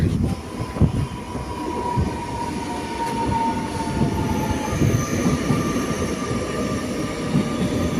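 A train pulls into a station in Portugal with a rumbling roll of wheels on rails and a long, thin metallic squeal running over it, fairly close and steady throughout.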